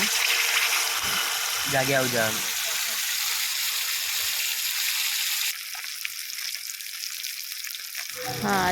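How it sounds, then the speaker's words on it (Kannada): Fish sizzling as it fries in coconut oil on an iron tawa, a loud continuous close crackle that runs throughout, with a voice talking over it at times. "ಇಲ್ಲಿ ತೆಂಗಿನೆಣ್ಣೆ ತಗೊಂಡಿದ್ದೇನೆ ಹಾಗೆಯೇ ಕಬ್ಬಿಣದ ಕಾವಲಿಯಲ್ಲಿಯೇ ಫ್ರೈ ಮಾಡ್ತಾ ಇದ್ದೇನೆ"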